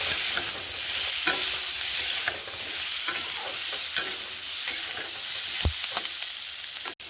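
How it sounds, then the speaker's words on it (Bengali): Pointed gourd (potol) frying in a pan, stirred now and then: a constant close sizzle of hot oil with scattered clicks and scrapes of the utensil against the pan, with no one talking. "এখানটায় একটু পটল ভাজা করছি।"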